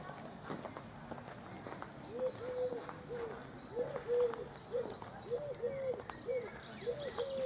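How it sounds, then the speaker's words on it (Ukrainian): A common cuckoo calls repeatedly in the distance in a park in Nadvirna, Ukraine, its two-note call steady and rhythmic, with faint voices and outdoor ambience around it. "Кує зозуля."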